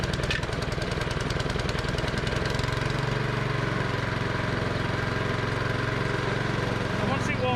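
A hollow tine lawn aerator's small petrol engine runs steadily close by on choke, a low regular chugging putter that settles into an even idle with faint mechanical rattle.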